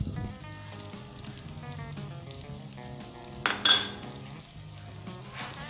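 Fried onions, green chilies, ginger and spices crackle and sizzle in a hot pan, a steady close fry broken by a brief sharp clatter of a utensil against the pan partway through.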